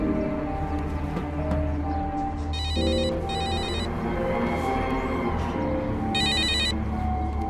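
A telephone in a Bollywood love story film rings in two short bursts of electronic trilling, then once more, over a steady music score with no voices.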